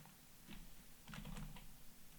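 Quiet, close computer keyboard typing, a few scattered keystrokes followed by a quick burst of clicks, with no voices.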